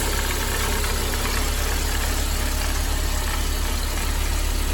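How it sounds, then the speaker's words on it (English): Steady low rumble from a Mercedes 190E 2.0 (W201, M102) engine with a worn belt tensioner, idling continuously and loud throughout, with dense broadband mechanical noise and no talking. "You must have heard a rumbling noise."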